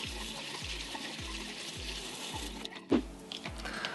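Lukewarm water runs gently over a houseplant's roots during a switch from soil to pon, a steady soft trickle with faint repeated low thumps and a brief louder splash near the end.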